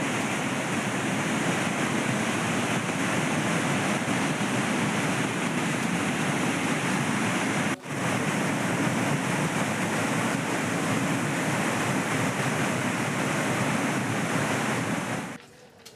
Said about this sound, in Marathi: सुरगाणा तालुक्यातील प्रसिद्ध भिवतास धबधबा सध्या ओसंडून वाहतोय